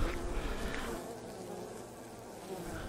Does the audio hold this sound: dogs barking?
no